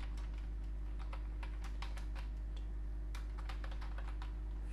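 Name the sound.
typing a message on a computer keyboard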